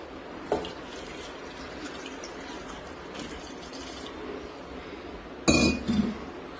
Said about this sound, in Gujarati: હવે આપણે તેમાં પાણી નાખીશું.